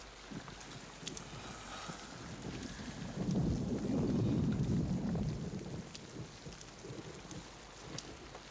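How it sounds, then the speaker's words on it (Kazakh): Rain and a low rumble of thunder in an animated Bible story, a steady wash of rainfall that swells into a deep roll in the middle and then eases back, with no voices. "Бал бізге жауын жібергенін көріп тұрман."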